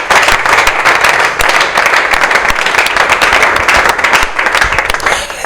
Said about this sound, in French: nous allons applaudir très fort pour Monsieur Didier